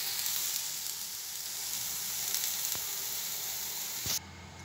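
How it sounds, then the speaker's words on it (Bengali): Okra fries in oil in a pan, giving a steady, close sizzle with occasional stirring scrapes, then the hiss drops abruptly near the end as the pan comes off the heat. "তেল দিয়ে কিছুক্ষণ নেড়ে চেড়ে নেব, তারপর আমি ভাজিটা নামিয়ে নেব।"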